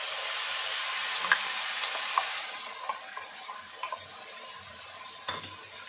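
Spice paste of ground coriander, cumin and chili hitting hot oil with reddened onions for Lata fish curry, a steady broad sizzle with light stirring clicks of a utensil against the pan, close and alone without talk.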